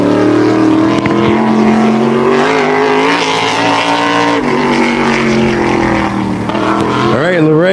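Wall modified race car number 74 at Wall Stadium pulls away on its qualifying lap, a loud sustained engine drone holding steady and then revving upward near the end, with a voice talking over it.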